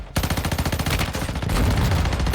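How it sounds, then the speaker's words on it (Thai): Rapid machine gun bursts in Warzone Mobile, a fast, evenly spaced string of loud close shots that blurs into a denser roar toward the end, with no talking. "ปืนกลครับ"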